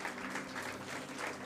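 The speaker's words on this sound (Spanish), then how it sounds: "Dale un fuerte aplauso al Señor" A church congregation applauds in a brief burst of dense, even clapping that fills the space at moderate distance.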